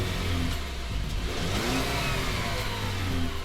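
A 2014 Buick Regal's 2-liter turbocharged four-cylinder accelerating, a steady mid-pitched engine drone rising in pitch as revs build, heard from inside the car with no talk.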